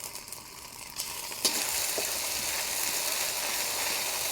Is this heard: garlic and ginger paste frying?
yes